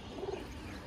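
A Kalanka pigeon pair coos in a brief, soft run of low notes, a few short pulses close together with steady background hum and no voices.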